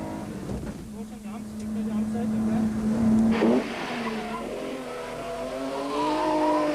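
A 1990 rally car tearing through a stage, engine note climbing then tires skidding and squealing, heard at moderate distance with a voice talking over it.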